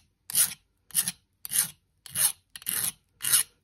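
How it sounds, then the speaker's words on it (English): A metal file rasps along the sharp cut edge of a spoon handle in six steady, evenly spaced strokes, each a loud, close, gritty scrape separated by brief silence. "So now we're gonna take a file and file that down."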